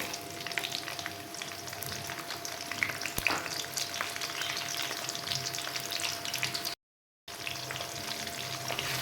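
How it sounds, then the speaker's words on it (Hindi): A medium chopped onion hits hot oil with a spoonful of cumin for kabuli chana pulao, giving a steady close sizzle and crackle that runs on evenly, broken by one brief gap. "और इसमें अब कर दूंगी मैंने जो वो मीडियम साइज़ का एक प्याज कटिंग किया था उसे।"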